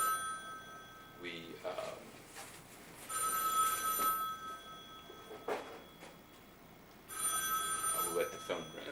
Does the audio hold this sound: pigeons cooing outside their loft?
no